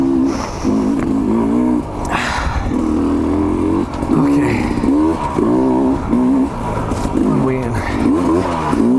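A Sherco 250 SE dirt bike engine revs up and down repeatedly as it shifts through gears on a trail, loud and close, with a voice talking over it at times.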